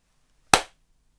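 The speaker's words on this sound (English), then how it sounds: "Here's the clap." A single sharp hand clap, loud and close, standing alone in near silence with a quick decaying tail.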